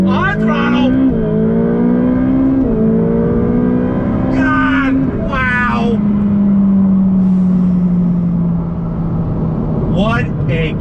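A 2020 Ferrari F8 Tributo Spider with its flat-plane crank engine pulls hard on throttle, giving a loud, sustained engine note that rises and holds through the gears, with speech heard over it at moments.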